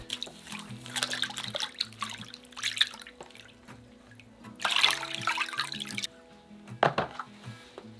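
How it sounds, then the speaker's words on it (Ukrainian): Salted pork being rinsed under a running tap, with water splashing and pouring in uneven bursts and a few clear drips, close by and moderately loud, with no voices. "М'ясо добре миємо від солі."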